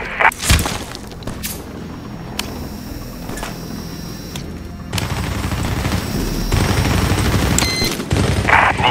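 Gunfire in the Medal of Honor Warfighter video game: a sustained, loud stretch of shooting and dense combat noise, with sharp bursts and a heavier, fuller barrage toward the end.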